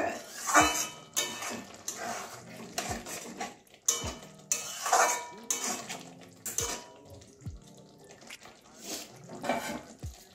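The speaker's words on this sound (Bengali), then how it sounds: "একটু ভালো করে মিশিয়ে নেব।" Egg curry with peas being stirred in a pot, a spoon scraping and clinking against the metal in repeated strokes over a soft simmer, close and moderately loud, with a voice talking intermittently.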